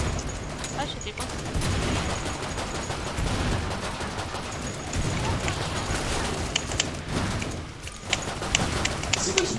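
Rapid bursts of gunfire from the video game Killing Floor crackle almost continuously, with busy combat noise and a player's voice talking over it.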